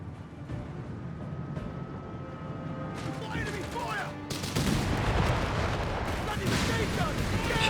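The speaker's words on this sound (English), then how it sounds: "Shots flying out of the Panther." Panther tank cannon fire and battlefield explosions in Company of Heroes 3, with repeated booming shots and rumbling blasts that grow louder and denser in the second half, layered over game ambience.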